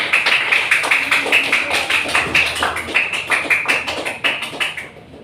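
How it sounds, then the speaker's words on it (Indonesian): Elementary school pupils in a classroom clap their hands together in a quick, regular rhythm for about five seconds, each clap crisp and close, the pattern trailing off at the end. "Oke, tepuk tangan."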